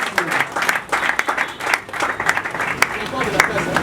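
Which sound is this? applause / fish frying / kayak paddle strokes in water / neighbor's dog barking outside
applause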